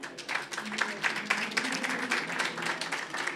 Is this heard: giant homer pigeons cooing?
no